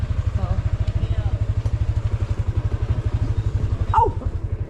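A noisy motorcycle engine idles and chugs with a rapid, even thumping pulse, loud and close, while voices are heard over it and a brief higher sound rises near the end.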